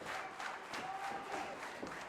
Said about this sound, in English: The clapping has started.